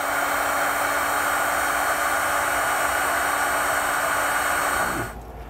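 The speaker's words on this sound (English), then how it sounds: "then we'll grab our heat gun to shrink those down" A heat gun blows steadily while shrinking wire connectors during a trailer brake controller wiring install, a constant broadband hiss with a low hum that cuts off abruptly near the end.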